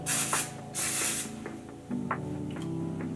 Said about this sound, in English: we're gonna spray a little bit just to give it some extra hold